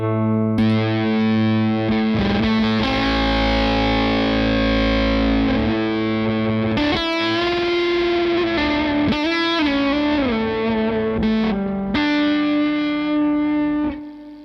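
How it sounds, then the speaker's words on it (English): Electric guitar played through a fuzz pedal, a thick buzzing distorted tone with sustained chords and bending notes, loud and continuous with no talking. "very kind of serrated edge, kind of buzzsaw, kind of aggressive kind of thing"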